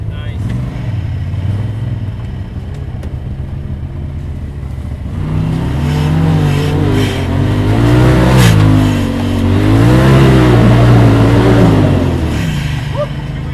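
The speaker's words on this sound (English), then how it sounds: "Two-wheel drive. Wheel spin at the top there." A Can-Am Maverick X3 or Polaris side-by-side in two-wheel drive revs hard on an off-road ride, its engine rising and wavering loud and close as the wheels spin near a hilltop, with some talk over the roar.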